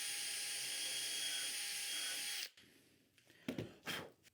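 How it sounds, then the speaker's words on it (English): Power drill boring a dowel hole into a wooden shelf with a JessEm doweling jig, a steady loud whine for about two seconds, then stopping abruptly, followed by a couple of short knocks and handling sounds. "so I'll drill my first hole."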